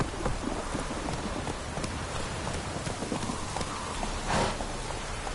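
Roach the horse galloping in The Witcher 3, a steady soft clip-clop of hooves over a rain-like hiss, fairly quiet and continuous throughout.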